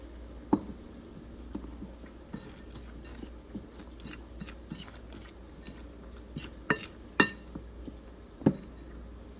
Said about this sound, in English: You want to cut the butter with knife or fork.